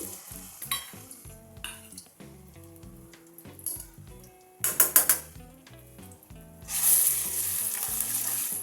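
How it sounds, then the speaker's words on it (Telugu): Ginger garlic paste frying in a pan for a chana dal curry, a steady close sizzle with stirring scrapes and clatters, swelling into a louder hiss near the end. "పచ్చవాసన వెళ్ళే వరకు మనం పోయినంత వరకు బాగా వేయించుకోండి"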